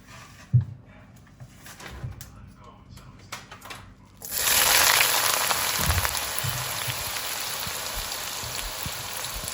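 Onion paste drops into hot oil for chicken curry, setting off a sudden, sustained crackling sizzle after a few seconds of quieter kitchen knocks and a voice talking.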